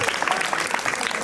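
Crowd applause at a Home Minister Paithani game event during a 2024 Ganesh festival in Ramwadi, Alandi: a short, busy patter of many hands, fairly close, with some voices mixed in.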